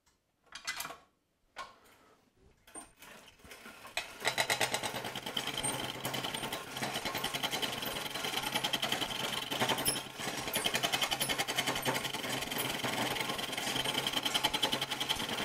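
A wood lathe spins a workpiece of dry teak, starting with a few knocks and bursts, then settling at about four seconds into a continuous close whirring drone that runs steadily to the end without speech.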